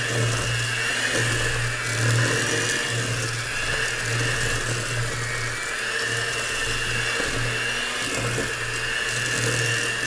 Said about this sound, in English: You can kind of even hear that mixer, right?